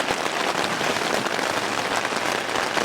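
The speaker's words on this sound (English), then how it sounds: "Can you hear it raining?" Steady dense rain patters on a tent during an Arctic river trip in grizzly country, a loud, even hiss of drops with no pauses and no voices.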